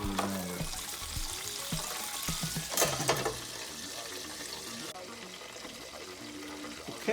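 Chicken pieces fry in hot oil for Popeyes-style fried chicken, heard as a bubbling, crackling sizzle with a sharp burst of clatter near the middle, then a steadier fainter fry.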